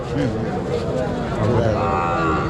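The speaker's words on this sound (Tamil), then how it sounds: "மாடு மிரளுது" Cattle lowing and shifting at a village livestock market, a steady crowd murmur and people talking underneath, with an agitated cow's calls rising over the din.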